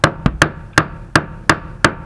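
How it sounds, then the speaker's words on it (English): Seven sharp metallic taps of a hammer working the plastic fuel pump lock ring loose on a 1990 Ford Ranger, struck at an uneven rhythm, close and fairly loud, with no talk. "tap the ring around until it gets relatively loose"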